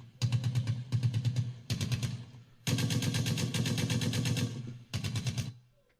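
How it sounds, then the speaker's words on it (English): Rapid machine gun fire rattles in several loud bursts, separated by short pauses, with a long sustained burst in the middle. "Gunshots."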